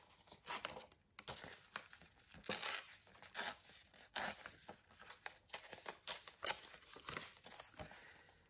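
Paper and a napkin torn by hand for a collage, with repeated close ripping bursts and crinkling between them in an uneven rhythm, quiet and without speech.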